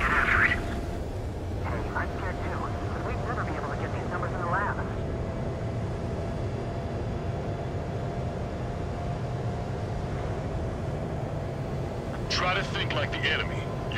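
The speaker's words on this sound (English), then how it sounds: "Enemy aircraft approaching." A jet aircraft approaching in the combat flight game Ace Combat 7, a steady droning engine roar that holds throughout, with radio chatter and beeping cockpit tones at the start and end.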